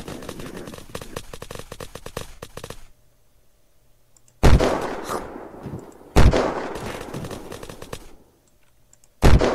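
Rapid bursts of gunfire from the video game Unturned crackle in dense volleys, then stop, followed by several loud, sharp single shots with ringing decay separated by short silences.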